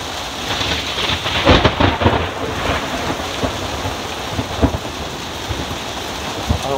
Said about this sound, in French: Réveil ce matin à Istanbul avec de l'orage